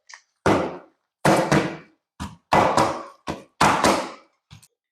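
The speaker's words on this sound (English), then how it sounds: "Nothing like a little counter banging" A clear ice mold is banged against a kitchen counter in a series of loud, hard thunks, about seven irregular impacts close by, with short silences between them and no talk.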